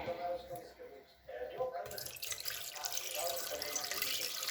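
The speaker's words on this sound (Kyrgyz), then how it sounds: "жарым чөмүч суу коюп ушуну кайнатам" About half a ladle of water is poured into a cooking pot, a soft steady splashing stream that starts after a quiet moment and continues to the end.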